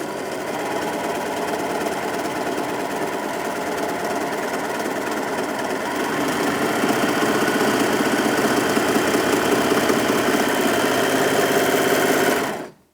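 A Brother 3034DWT overlocker stitches continuously at high speed, up to 1300 stitches per minute, a dense, fast mechanical whir and rattle that runs steadily before stopping abruptly at the end.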